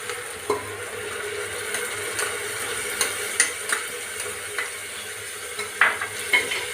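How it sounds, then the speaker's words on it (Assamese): Ground spices, salt, turmeric, coriander, cumin and red chilli, fry over a high flame in a pan for mutton gravy. A faint, quiet sizzle runs under repeated light clicks and taps of a stirring utensil. "এতিয়া এনেকৈ অলপ টাইম ভাজি, 5 মিনিটমান ভাজি"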